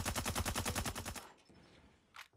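Rapid submachine gun fire from Call of Duty: Mobile, a tight, fast burst of repeated shots lasting about a second, then a quieter tail with one brief sharp sound near the end.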